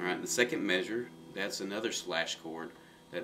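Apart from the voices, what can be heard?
No everyday noise stands out behind the speech.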